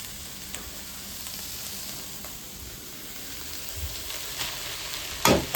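Rice tipped into a pan of cooked meat and vegetables gives a steady, moderate sizzle, with light scraping and stirring clatters and a brief sharper burst near the end.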